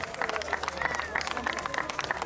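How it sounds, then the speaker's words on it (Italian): An audience applauds at an autoslalom racing event, a dense burst of clapping and crowd noise with a voice talking over it. "Un applauso."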